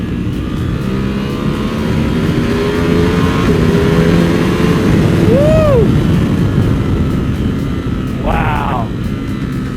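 Custom Ducati Monster 1200 motorcycle accelerating hard, a loud continuous engine roar with rising revs and quick shifts, close to the rider, with faint voices in the background.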